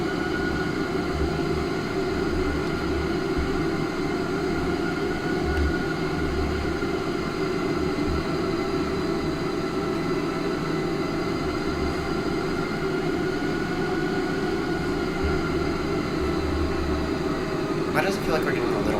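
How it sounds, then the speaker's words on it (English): Steady aircraft engine drone inside a flight simulator cockpit on a Baltimore to Heathrow flight, a loud continuous broadband roar with low hum, unchanging throughout with a brief click near the end. "My aircraft."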